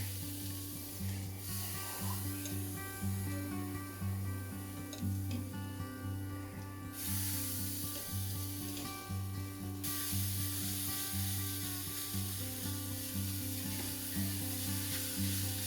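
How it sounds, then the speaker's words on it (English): Food frying in a pan for a schnitzel and spaetzle cook-off, a steady soft sizzle and spatter with faint ticking and stirring, no talk. "I'm going to fry these up a little bit more than the last"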